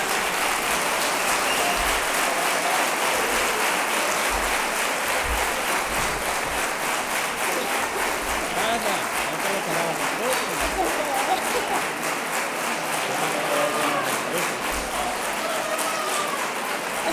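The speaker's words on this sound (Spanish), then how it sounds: "Un aplauso para ella." Sustained audience applause at a sports awards gala held in Andalusia, a dense, even roar of many hands clapping continuously and loudly, with no break for the full length.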